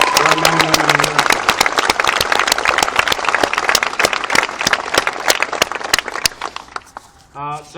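An audience claps for the USO at a Hollywood salute event, a loud burst of many hands with sharp distinct claps that gradually thins and fades near the end, a voice briefly audible at the close.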